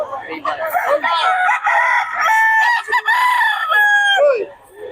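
Black hens at a poultry farm crow and cluck loudly and close by, one call following another over about five seconds.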